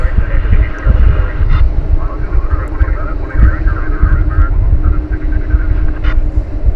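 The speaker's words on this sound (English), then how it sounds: "Qatar Air 747 pulling out in front of us right now" A Qatar Airways Boeing 747 taxiing at night at Dallas-Fort Worth International Airport, a heavy low engine rumble with wind buffeting, loud and continuous as a person talks over it.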